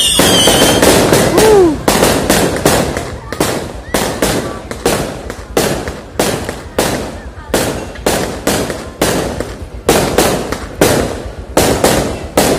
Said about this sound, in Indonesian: Petasan udah nyala